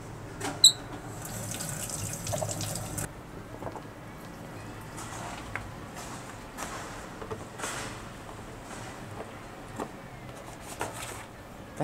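Water pours into a water bowl inside a reptile tank being set up for savannah and Nile monitors. A few seconds of splashing flow give way to faint drips and small knocks.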